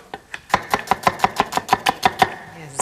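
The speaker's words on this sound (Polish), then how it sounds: "bardzo proszę pokroić cebulkę" A knife chopping onion into small cubes on a board, a steady run of about a dozen crisp, evenly spaced chops, close and clear with no talk, while preparing carp soup with paprika sauce.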